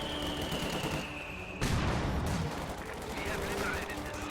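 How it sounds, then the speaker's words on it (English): Mortar blasts and machine gun fire in a WWII strategy video game, with a sharp loud burst near the middle followed by continuing rattling gunfire and explosions. "Ooh, another pretty good mortar right there. My machine gun is gonna get wiped."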